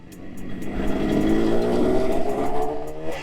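A 1976 Yamaha RD400 two-stroke motorcycle engine revs up, its rising buzzy pitch climbing and holding as it hits the power band, close and fairly loud, with no voices.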